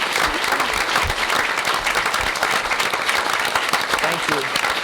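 Sustained, dense applause from an audience at a township council meeting, honouring veterans, steady and full throughout with no pauses.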